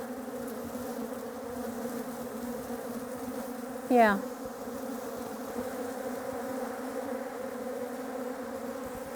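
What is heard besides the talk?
bees buzzing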